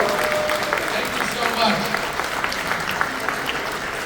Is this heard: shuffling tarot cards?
no